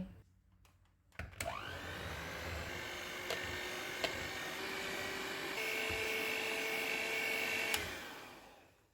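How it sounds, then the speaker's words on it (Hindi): An electric mixer whips cream, starting abruptly after a quiet moment and running as a steady high whine with a rising pitch, clattering lightly against the bowl before winding down at the end. "क्रीम को व्हिप करेंगे।"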